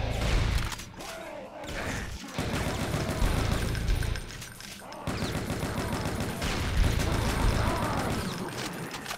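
Rapid heavy gunfire in the Brutal Doom V19 video game, long loud automatic bursts with a short break and a thud, close and dense, with someone talking briefly over it.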